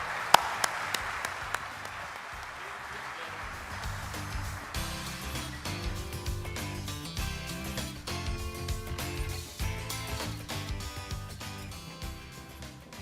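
An audience at a convention opening session claps in a broad, wash-like burst that soon gives way to loud music.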